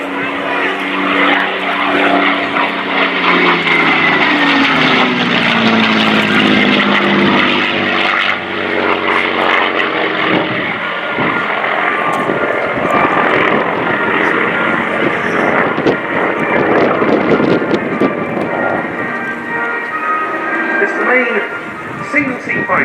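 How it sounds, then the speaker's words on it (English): Messerschmitt Bf 109 propeller fighter, supplied by Airbus Group and Flugmuseum Messerschmitt, roaring past in a loud sustained flypast at a Battle of Britain anniversary airshow, its engine note shifting as it passes, with commentary over it. "We have the Messerschmitt Bf provided to us by the Airbus Group and the Flugmuseum Messerschmitt."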